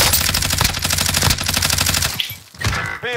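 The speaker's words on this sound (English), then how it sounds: "He's firing at me" Rapid automatic gunfire in the video game Warzone, a loud sustained burst of closely spaced shots lasting over two seconds, then a brief pause and a few scattered shots, with no talk.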